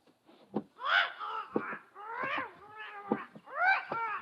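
Animals in a crowded pet shop give repeated cat-like yowls and cawing bird calls, about half a dozen cries in uneven succession, fairly close with quiet gaps between.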